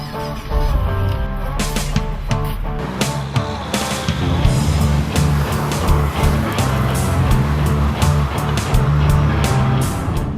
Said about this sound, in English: now to actually finally test drive the car